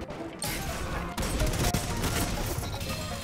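Shots from an Austringer hand cannon in Destiny 2 PvP, a few sharp heavy reports spaced apart over a busy background of other combat noise.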